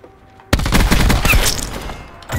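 Gunfire in the video game Black Ops 4 erupts suddenly after a quiet moment, loud and close, as a rapid burst of automatic shots that rattles on for about two seconds.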